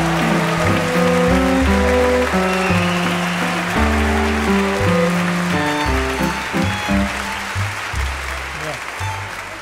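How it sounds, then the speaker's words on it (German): An audience claps loudly and steadily, a dense wash of applause that gradually thins out, with piano chords sounding underneath. "Applaus"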